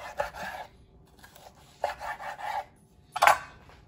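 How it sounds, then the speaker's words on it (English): A knife saws through a butter-basted ribeye steak in a few separate rasping strokes, close and fairly quiet, with a sharper scrape near the end. "So we're gonna get a few nice slices into this."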